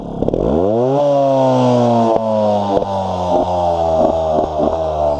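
A GasGas 250 two-stroke trial motorcycle revs from low to a high, steady buzzing pitch and holds there loud and close, with several quick throttle stabs breaking the drone.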